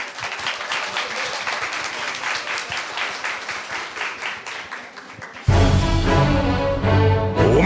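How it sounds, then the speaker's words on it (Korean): A live audience at a Final Fantasy XIV Letter from the Producer broadcast claps steadily for several seconds. Dense music with rumbling low tones then cuts in abruptly and masks the applause. "박수로 함께"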